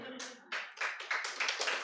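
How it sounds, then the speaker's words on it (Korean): A church congregation breaks into clapping in bursts of overlapping claps, swelling in several waves, fairly close and moderately loud, with a voice speaking at the start. "박수 한번 치야 되는데."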